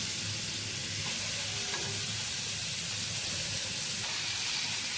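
Potatoes coated in turmeric and chili powder fry in a pan for a Bengali egg curry, giving off a continuous soft sizzle and hiss with occasional stirring scrapes, fairly quiet and steady.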